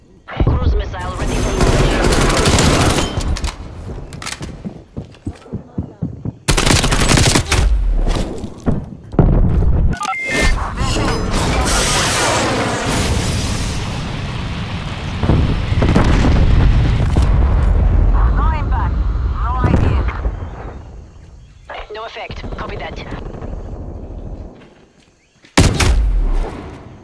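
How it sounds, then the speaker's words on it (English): Sustained game combat in Call of Duty Black Ops Cold War: heavy booming explosions and rattling gunfire roll on almost without a break, loud and close, with brief quieter gaps and a final sharp blast, while voice lines sound over the battle. "Cruise missile ready."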